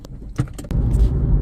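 Suzuki Baleno car being started, with a jangle of keys and a few clicks, then the engine catching and settling into a steady low idle close by.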